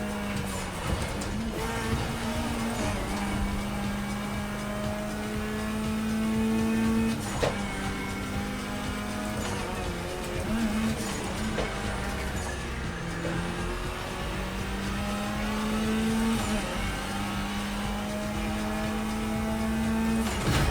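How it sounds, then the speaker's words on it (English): Racing cars in The Crew Motorfest video game passing by repeatedly, engine tones rising and falling over a continuous game soundscape, moderately loud with no talking. "those cars, like I said, those things flying by you and stuff is really distracting"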